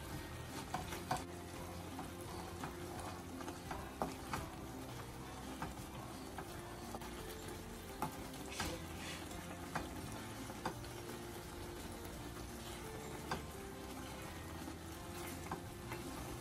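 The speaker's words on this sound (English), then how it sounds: "Now I'm going to add 1 full spoon of mayonnaise. I'll mix it quickly." Maggi noodles with a spoonful of mayonnaise are stirred in a hot pan, a steady sizzle with frequent small scraping and tapping clicks of the spoon, close and quiet, no talk.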